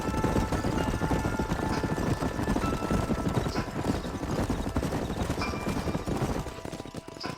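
Horse hooves clip-clop in a steady, dense rhythm in the Western video game Red Dead Redemption on PS5, fairly loud and continuous with faint background rumble.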